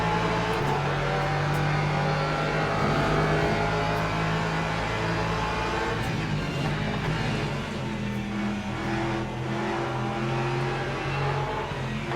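Race car engines in the Le Mans Ultimate sim at Spa, including a Mustang and a Porsche, drone and rev continuously at steady loudness, with several engine tones overlapping in a busy endurance-race mix.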